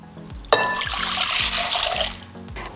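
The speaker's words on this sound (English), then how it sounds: "We'll pour it into a large mixing bowl." Warm milk, heated to about 120 degrees Fahrenheit, poured into a large mixing bowl: a sudden splashing gush starts after a half second and runs steadily for about two seconds before tapering off, with a repeating low mechanical thump throughout.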